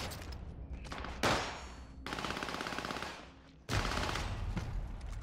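Sustained bursts of SMG fire from the video game Call of Duty: Warzone, loud and near, with continuous rapid shots broken by brief gaps between long volleys.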